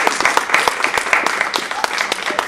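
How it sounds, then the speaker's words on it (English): A small audience at a Women's History Month event at Bowie State University claps for a guest, with distinct individual hand claps standing out in a brief, uneven round of applause. "Would you please give Ms. Barrett a round of applause?"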